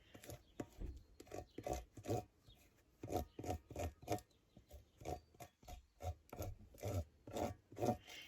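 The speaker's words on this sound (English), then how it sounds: "But squeegee it through pretty good." A squeegee is dragged firmly over an IOD transfer laid on a tin can, making a rapid series of rough rubbing scrapes in an uneven rhythm, close up with no voices.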